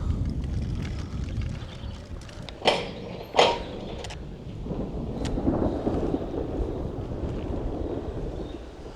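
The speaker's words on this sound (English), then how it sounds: "Holy shit, the thunder," Two sharp, close thunder cracks break over a steady roar of wind and rain during an outdoor storm, followed by a low rumble.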